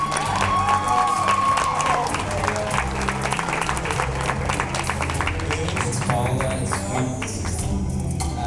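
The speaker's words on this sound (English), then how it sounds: "let's give them a round of applause." A live audience breaks into a sustained round of applause with cheering, loud and continuous throughout, mixed with crowd noise and some voices underneath.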